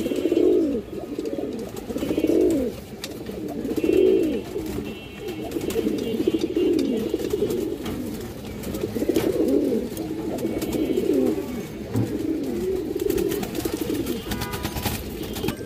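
A high-quality, high-bloodline pair of pigeons coos close by in loud, rolling throaty bursts that repeat every couple of seconds, steady and without any talk.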